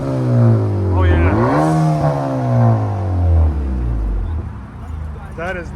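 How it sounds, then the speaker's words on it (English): A 2021 Honda Accord 2.0T with its muffler and resonator removed revs loudly nearby, rising and falling, then crackles with a few pops as the revs drop, while voices talk over it. "And now this is muffler, resonator delete in the back. Check this out. It pops."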